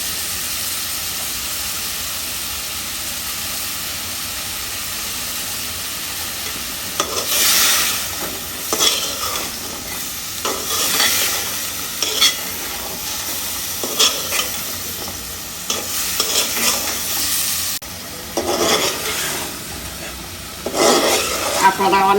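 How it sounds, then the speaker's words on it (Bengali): Ginger garlic paste and onion are stir-fried in a pan, a constant close sizzle that swells into repeated bursts of scraping and stirring over the second half, sometimes with a voice talking. "এখন কষায় নেব, আমি বেশ ভালো করে কষাই নেব।"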